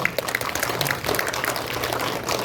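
Steady applause from an audience at a Yangsan cultural resources forum welcoming the presenter, a dense continuous patter of claps at moderate distance with no speech over it.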